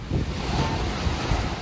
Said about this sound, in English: the wind's still blowing 20-25 knots. Sea's a bit washing machine like